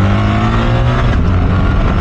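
BMW R1300 GS motorcycle engine under hard acceleration, a loud, close, continuous roar with a steady droning pitch throughout.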